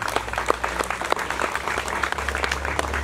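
A congregation at a Día de la Cruz celebration in San Rafael, Chalatenango, El Salvador gives dense, sustained applause, many hands clapping together at a steady level, with a low hum underneath.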